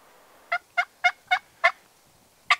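A wild turkey calls during a West Texas spring hunt: a series of short, sharp, evenly spaced bursts, then a pause and one more, clear and fairly close against a quiet background.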